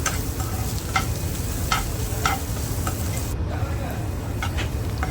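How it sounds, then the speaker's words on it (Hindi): Onions with ginger garlic paste fry in a pan, giving a constant close sizzle with occasional clicks of a utensil stirring against the pan. "जिंजर गार्लिक पेस्ट सब अच्छी तरह से फ्राई होके अभी हम टमाटर डाल देते हैं।"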